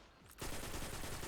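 Rapid gunfire in a video game gunfight, a dense, continuous burst that starts abruptly and stays loud to the end.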